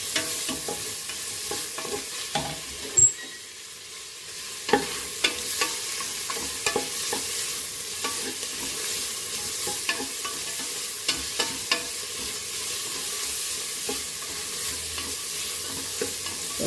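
Onions frying in a pan for Mandi biryani give a steady close sizzle, broken by occasional sharp clinks and scrapes of a spatula stirring against the metal.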